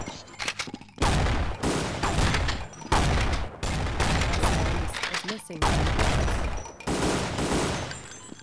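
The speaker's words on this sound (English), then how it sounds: "Nail gun." A nail gun in a video game fires several rapid, loud bursts in quick succession, separated by short pauses, each volley a harsh mechanical clatter.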